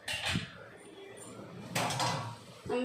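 A metal lid is set down on a pot of simmering brinjal curry, giving a few sharp clanks of metal on metal with quieter kitchen handling noise between them.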